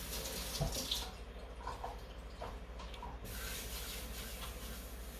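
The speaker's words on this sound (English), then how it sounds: "Put more water." A tap runs steadily into a sink during sourdough bread making, a continuous hiss of flowing water lasting several seconds with faint clinks and rubbing over it.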